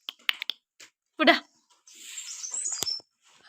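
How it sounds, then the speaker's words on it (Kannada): Parrots and other birds kept in a cage at a grandmother's home give short, close chirps and squawks in scattered bursts, with a longer raspy call near the end. "ಅಜ್ಜಿ ಮನೇಲಿ ಗಿಳಿಗಳು ಹಕ್ಕಿಗಳೆಲ್ಲ ಕೆಲವು ಇದ್ದು ಗೂಡಲ್ಲಿ"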